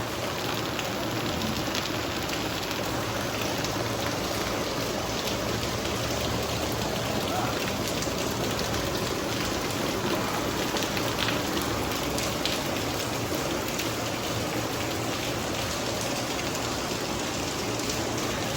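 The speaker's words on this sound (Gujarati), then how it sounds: "બહાર વરસાદ ચાલુ થઈ ગયો છે." Rain falls steadily outside a newly painted shop, a dense even hiss of drops on surfaces that stays constant and fairly close the whole time, with faint talk underneath.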